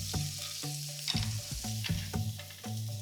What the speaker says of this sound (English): The last thing I need to do is toast my Greek pistachios